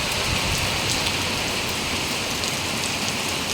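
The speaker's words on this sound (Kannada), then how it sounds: "ಮಳೆ ಬೀಳ್ತಾ ಇದೆ" Steady, dense rain pours down outdoors during a Ganesha festival in Kolar, a continuous close hiss of drops striking surfaces with no voices.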